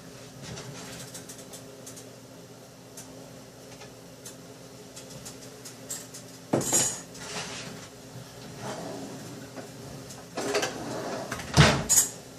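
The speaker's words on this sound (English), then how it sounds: "I'm just going to put the ribs back in the oven for a couple of minutes." Short ribs braised in root beer are slid back into a kitchen oven: after a quiet stretch, a metal pan clatters on the rack and the oven door bangs shut, with a few sharp clinks and knocks close by.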